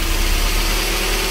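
A 2000cc VVT-i car engine idles close by with a steady, even mid-low rumble and no break in its level.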